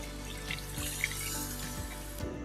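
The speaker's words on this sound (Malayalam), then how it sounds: "പാത്രത്തിൽ നിന്ന് മസാലയൊക്കെ ഒന്ന് കഴുകി ചിക്കനിലേക്ക് ഒഴിച്ചു കൊടുക്കാം." Water poured into a pan to rinse masala from a bowl into chicken being cooked for Chicken Maharani, a steady close splashing stream running throughout with faint clinks.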